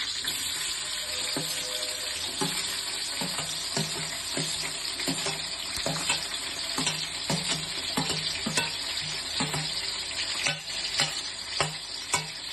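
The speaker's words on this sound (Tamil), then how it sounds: "நல்லா வதக்கி வைக்கணும்." Garlic and green chillies sautéing in a pan for a bachelor-style Tamil fish curry, a steady close sizzle with repeated scraping stirs throughout and a faint watery splash near the end.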